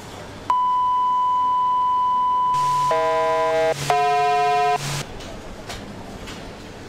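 An alarm in the Emergency 4 firefighting video game sounds a box alarm: a long steady electronic tone followed by two loud bursts of layered beeping chimes, heard alone.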